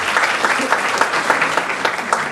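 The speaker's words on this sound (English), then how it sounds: "please give yourself a round of applause." A symposium audience bursts into applause, loud, close and continuous clapping with distinct individual claps standing out over a crowd murmur.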